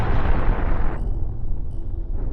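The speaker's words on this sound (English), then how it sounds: "More deck cannons are being shot in the meantime." Deck cannons firing in a video game battle, a loud rumbling roar of blasts that thins out partway through, with no voices.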